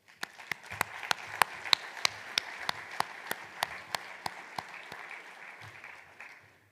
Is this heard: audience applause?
yes